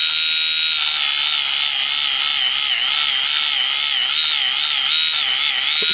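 A portable exfoliating dead-skin remover grinding across skin gives a loud, continuous high-pitched buzzing whine with a slight wavering pulse, steady throughout and heard alone.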